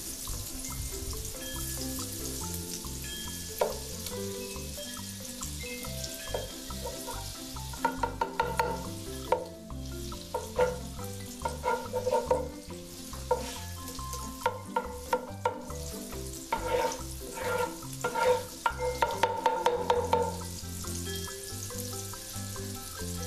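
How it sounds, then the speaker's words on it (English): Food sizzles in a cast iron Dutch oven over hot charcoal while beef stroganoff is cooked, a quiet hiss broken by frequent clinks and scrapes of stirring, with no talking. "Hear that sizzle? That charcoal can get really hot."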